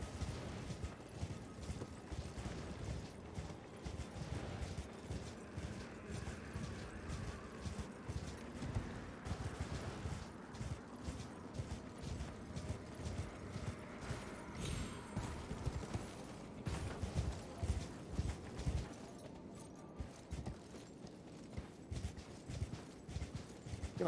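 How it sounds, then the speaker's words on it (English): Torrent, the spirit horse in the video game Elden Ring, gallops steadily with rapid, rhythmic hoofbeats that go on throughout and mix with clattering mechanical game sounds, with no talk over them. "Nope, Torrent is not a Skyrim horse"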